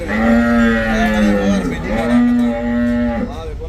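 A cow moos loudly and close by, one long drawn-out low call with a slight dip in pitch midway.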